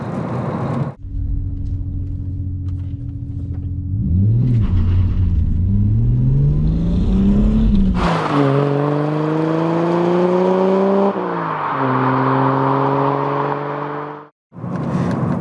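A Ford EB Fairmont with a 5-speed manual gearbox pulls away and runs up through the gears, its engine drone climbing in pitch, dropping at a shift and then rising again, loud and close with no talking.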